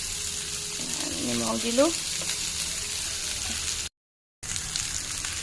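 Onions and chilies sizzle and fry in hot oil with a little salt added, crackling steadily in the pan while someone speaks briefly over it.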